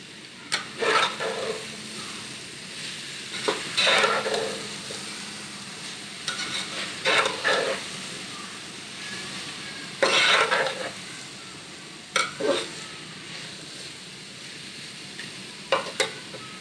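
Roasted chicken and vegetables stir-fry in ghee in a pan for Chinese biryani, a continuous sizzle broken by repeated bursts of spatula scraping and stirring against the pan.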